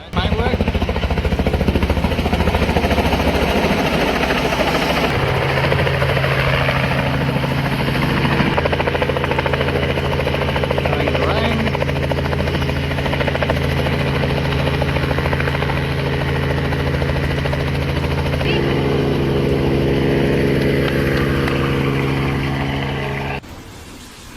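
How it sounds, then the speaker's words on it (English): A steady, loud helicopter drone with low rotor hum holds for about 24 seconds while rescuing a dog near floodwaters, its engine pitch shifting midway, with faint voices beneath. "A helicopter crew risked flying close to strong floodwaters to rescue a stranded dog"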